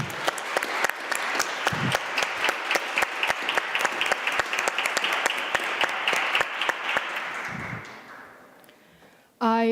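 A conference audience in Warsaw gives a warm round of applause, dense clapping that holds steady for several seconds and then thins and fades away.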